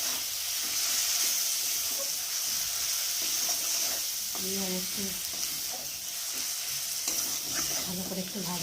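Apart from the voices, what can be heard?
tomatoes and spices frying and stirred in a pan for egg bhujia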